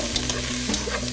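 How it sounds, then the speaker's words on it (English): Celery, carrot and onions sweating in olive oil in a soup pot for wild turkey soup, giving a loud, continuous close sizzle with faint stirring clicks and no talk. "Got a little olive oil in the pot. Just gonna get some celery, some carrot, and some onions. And I'm just gonna sweat those."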